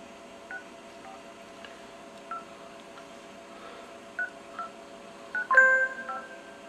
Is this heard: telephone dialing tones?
yes